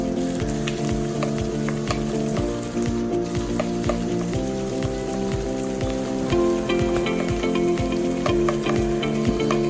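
Finely chopped onions sizzle and crackle steadily in a hot pan for fried rice, with a constant frying hiss and occasional scraping of stirring throughout.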